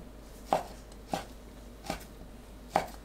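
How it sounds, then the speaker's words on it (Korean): A knife cuts fish cake into bite-size pieces on a cutting board, giving four separate, crisp chops spaced unevenly apart over a quiet background. "어묵을 한 입 크기로 썰어줍니다."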